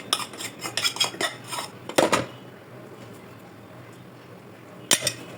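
A spoon stirs meat through rice in a pot, giving a burst of rapid metallic scrapes and clanks at the start, then a quiet stretch and one more short clatter.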